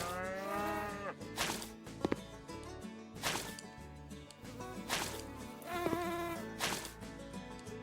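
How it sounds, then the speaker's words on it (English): Flies buzz around dirty hay in the House Flipper game, a steady, whining drone against a busy farmyard background with cattle lowing loudly and repeatedly. "I'm guessing we got flies in there. That's why I'm hearing all this buzzing."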